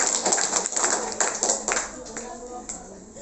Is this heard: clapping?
yes